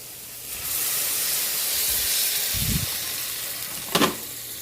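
Water poured into a hot pan while cooking sinigang sa miso bursts into a loud, sustained hissing sizzle, with a couple of brief clunks of utensils near the end.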